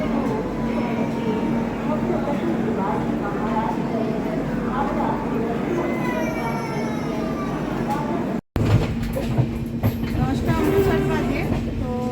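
A Duronto Express train standing at Bilaspur Junction, with a steady rumbling hum of the train and station din filling the scene, close and continuous, briefly cut off and then resuming.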